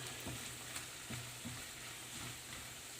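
Shrimp sauté in butter with garlic, a continuous soft sizzle with faint rhythmic stirring scrapes, fairly quiet throughout.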